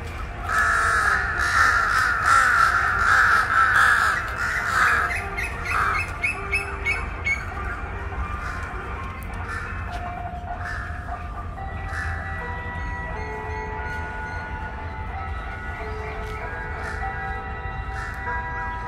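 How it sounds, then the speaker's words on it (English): Crows caw repeatedly over a busy outdoor background in Lumpini Park, Bangkok, in the morning, loudest in the first few seconds, with other birds chirping and distant city noise throughout. "from crows"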